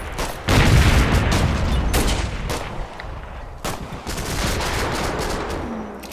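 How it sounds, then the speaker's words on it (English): High explosive rounds slamming into buildings in the war game Combat Mission: a run of loud, sharp blasts and cracks over rolling rumble, close and heavy, with short gaps between impacts. "He's still putting lots of high explosive rounds into these buildings here."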